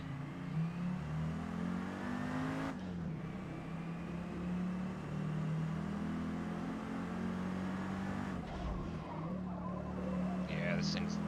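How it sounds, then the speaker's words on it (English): A turbocharged inline-five front-wheel-drive car in a racing video game drones steadily with engine harmonics, revving and shifting pitch, with a brief tire-squeal flourish near the end. "This inline 5 turbocharged monster."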